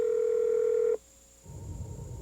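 A car phone with voice-activated dialing gives a loud, steady electronic tone that cuts off abruptly after about a second, followed by a brief silence and then a soft rustling hiss.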